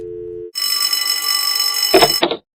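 Cartoon telephone ringing, a short low tone followed by a bright, loud electric ring lasting under two seconds, then cut off.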